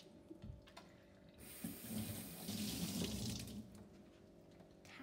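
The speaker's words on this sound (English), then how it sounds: "wash your hands. Come with me to wash." A kitchen or bathroom sink tap runs as hands are washed underneath, a gentle close splash that swells for a couple of seconds in the middle before easing back, with no talking.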